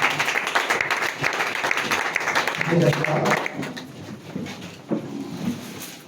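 A church congregation applauds and cheers in acclamation for Jesus during a French-language worship service, a dense wash of clapping with voices mixed in, steady and fairly loud throughout.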